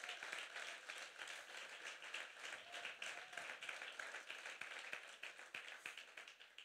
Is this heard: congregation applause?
yes